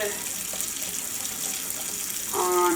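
Tap water running steadily over hands during a surgical scrub with chlorhexidine, a continuous close splashing stream that swells briefly louder toward the end.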